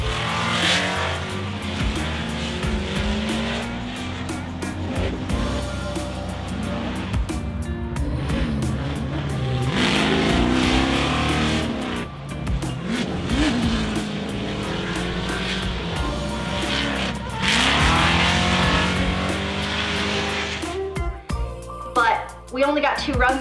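A drift car making a competition run at Formula Drift Road Atlanta, its engine roaring loud and steady with revs rising and falling, tires squealing, under continuous track noise.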